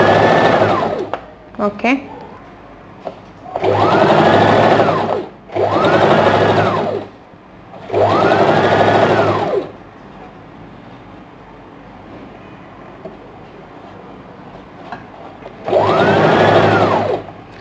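A sewing machine top-stitches a princess cut blouse in four loud, close bursts of rapid whirring separated by pauses, with someone speaking briefly between runs.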